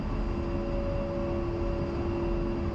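An A-10C Warthog's jet engines idling before takeoff in the DCS flight simulator, a steady, even roar with a constant whine layered over it, loud and unbroken with no voices.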